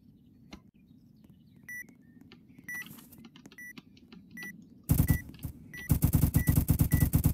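Rapid bursts of gunfire from a gun in the Roblox video game, loud and close, with dense repeated shots packed into the final seconds after quieter beeping game effects.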